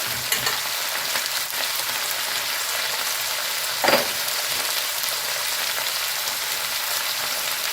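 Pirandai (adamant creeper) sautéing in sesame oil with salt, a steady broadband sizzle and crackle running throughout with one brief louder stir or scrape near the middle, no voices.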